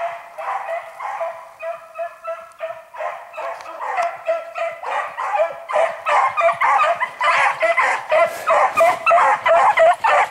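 A pack of harehound beagles bays and yelps while chasing a hare in the field, starting moderately and building into a loud, rapid chorus of overlapping cries.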